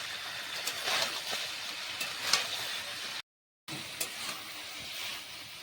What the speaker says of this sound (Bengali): চৌকোভাবে কাটা ক্যাপসিকাম পেঁয়াজ দিয়ে দিতে হবে। এরপরে নেড়ে চেড়ে অল্প পরিমাণে লবণ দিয়ে ভালো করে কষিয়ে নিতে হবে।